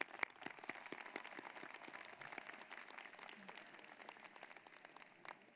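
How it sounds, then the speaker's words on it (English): Faint, distant applause from a large audience at a 2016 University of Washington commencement ceremony, a steady patter of many hands with a few sharper claps, heard alone without speech. "One more time, let's applaud them."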